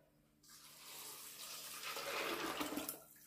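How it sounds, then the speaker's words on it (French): Vegetable broth pours steadily into a Silvercrest Cook'n Mix jug for a pea and bacon velouté, a continuous splashing rush that swells over about three seconds and then cuts off, with no voices. "Et je mets mon bouillon de légumes."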